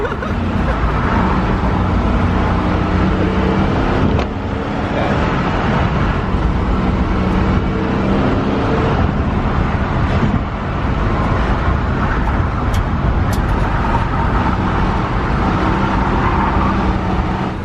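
A car driving test laps around an oval during prep for the Freedom 500, a loud, continuous engine and road roar with a dense rumbling drone throughout.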